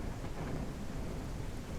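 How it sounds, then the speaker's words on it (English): A heavy thunderstorm rumbles in the ranching video game Ranch Simulator, with dense, steady rain and low thunder roaring continuously at close range, no voices. "Terrible storm."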